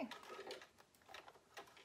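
A sewing machine running a wide zigzag stitch on the body of a fabric farmers market bag, a soft close mechanical whirr in short repeated bursts with brief pauses.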